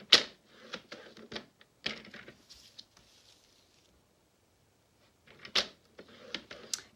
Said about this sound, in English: I'm going to score it a 1/2 inch.